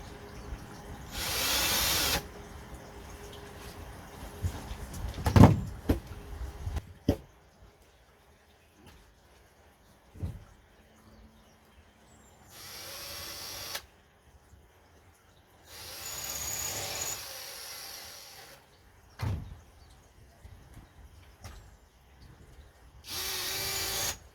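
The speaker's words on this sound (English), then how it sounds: "Drill your holes through." A power drill whirs in several short bursts, boring holes through a wooden falconry travel box, with knocks and handling noises in the pauses between.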